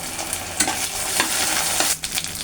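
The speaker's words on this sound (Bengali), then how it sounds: "এই দেখেন আমি পেঁয়াজ মরিচ ভেজে নিচ্ছি।" Onions and chillies fry in a pan for a rui fish bhuna, a steady close sizzle with a few louder scraping stirs and a brief dip near the end; no one speaks.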